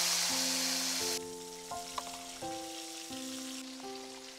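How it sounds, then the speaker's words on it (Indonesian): Fish frying in a pan gives a soft, steady sizzling hiss, loudest at first and then quieter, under sustained musical tones. "Sekarang waktunya goreng ikannya"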